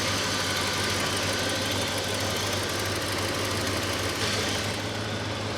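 A 1972 Ford F250 4x4 pickup engine idles close by after a coolant refill, with a constant low hum and a rough, slightly knocking texture throughout, with a manifold leak.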